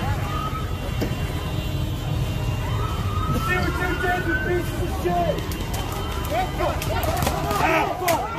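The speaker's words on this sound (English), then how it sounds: "Ambulance is here." An ambulance siren wails with rising and falling tones beneath loud voices and commotion nearby at a George Floyd protest in Denver.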